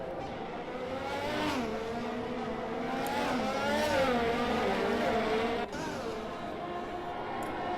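Formula 1 cars in a racing video game run side by side and overtake at the Abu Dhabi circuit, their engines a continuous high whine that sweeps up and down in pitch, moderately loud and unbroken.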